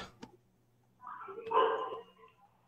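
Street dogs barking outdoors, a brief yip early on followed by a louder run of barks and whimpering yelps at moderate distance, with no talk over them.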